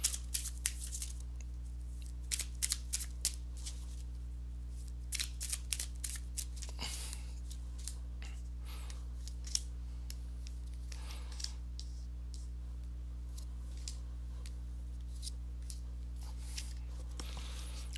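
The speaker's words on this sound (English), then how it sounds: "let me go ahead and get these cards shuffled" Tarot cards get shuffled by hand during a reading, giving quiet, sparse riffling clicks and soft slaps in irregular bursts over a steady low hum.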